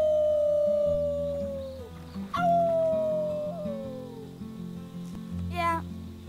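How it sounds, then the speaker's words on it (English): In the video game Life is Strange 2, characters let out a drawn-out team howl together, rising and falling pitched wolf-like cries over a game music backdrop. "Let's start with our team howl."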